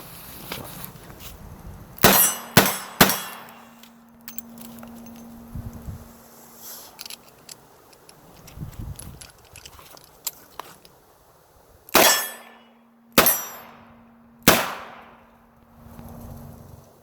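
Handgun shots ring out during a cold-weather shooting drill with steel targets: a quick cluster of three sharp cracks, a long pause with faint rustling, then three more spaced shots, each loud and close with a short ringing decay.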